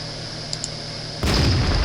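A tank cannon in World of Tanks fires a single heavy, deep boom that cuts in abruptly over a steady engine drone and holds as a dense rumbling blast.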